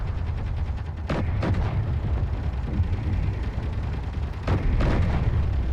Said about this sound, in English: Is he shooting at one of the wrecks?